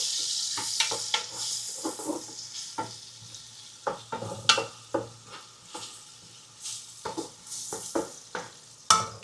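Ginger being stir-fried in a pan for papaitan, a steady hiss of sizzling broken by repeated sharp scrapes and clacks of a spatula against the pan, close and fairly loud.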